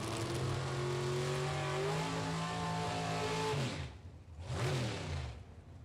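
Drag racing engines, a 1967 Oldsmobile 442 against a dragster, roar loudly with strong harmonic pitch held and rising, then cut off abruptly before a second burst sweeps past near and fades.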